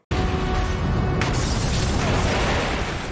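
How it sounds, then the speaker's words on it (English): A fiery explosion from a Doctor Who episode bursts in abruptly and loudly, then rolls on as a sustained dense roar and crackle of debris with no voices. "Fiery explosion."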